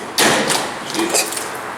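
Modernized Dover traction elevator doors in a parking deck thud shut with a heavy slam, followed by a second softer knock about a second later, close and loud against a steady background hum.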